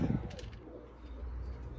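Young pigeons in a coop give low, soft coos, a brief murmuring burst at the start, then faint rumbling over a steady background hum.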